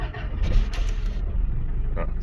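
A 1988 Toyota pickup with a 22RE engine running just after starting, a loud, close, rough idle rumble that holds steady throughout.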